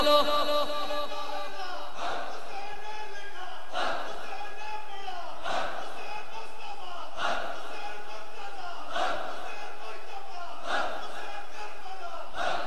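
A large crowd at a religious gathering chants the slogan Haideri in loud, rhythmic unison, answering a leader's calls in repeated bursts about every two seconds.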